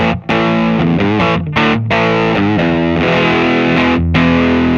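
Heavily distorted, overdriven music blares loudly and continuously from a Walrus Audio Voyager MkII pedal with bass boost on, its preamp overdriving, thick and fuzzy, with brief dips.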